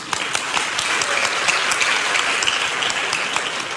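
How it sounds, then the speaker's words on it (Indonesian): An audience at a church gathering claps in dense, continuous applause, a steady wash of many hands with sharp individual claps poking through, no speech over it. "Tepuk tangan."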